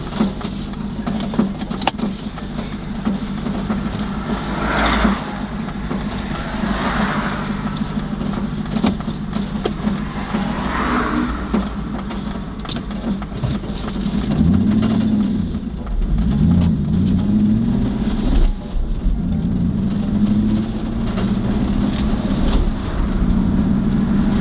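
An Aston Martin with a damaged, bent-up fan belt cruises at low RPM, a steady low engine drone with road rumble and some rattling, growing rougher and louder toward the end.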